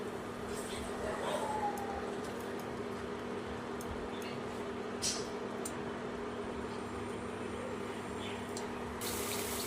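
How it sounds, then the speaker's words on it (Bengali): Water poured into a pan while cooking mustard pabda fish curry with salt and turmeric, a steady close splashing and running flow under a constant low hum, lasting the whole stretch, with a brighter rush near the end. "পরিমাণ মতন জল দিয়ে দিতে হবে"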